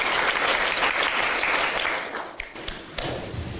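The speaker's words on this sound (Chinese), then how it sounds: "為什麼這時候鼓掌？" Applause from an audience at a political speech by Xi Jinping, heard in a played recording, dense and sustained, then thinning into a few scattered claps before fading.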